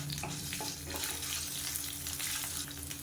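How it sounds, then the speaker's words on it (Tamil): Garlic, ginger and coriander fry in hot oil with a close, steady crackling sizzle that holds at an even level from start to finish. "இப்போ இது பொரிய ஆரம்பிக்கையில் ஒரு பத்து பூண்டு போல் சேர்த்துக்கலாம்"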